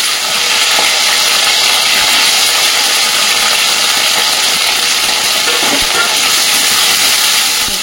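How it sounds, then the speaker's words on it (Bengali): Loud, steady sizzling hiss of okra frying in hot mustard oil, continuous and close, with faint crackles and pops scattered throughout. "ঢেঁড়সগুলো কেটে রেখেছি, এটা লাল লাল করে ভেজে নেবো"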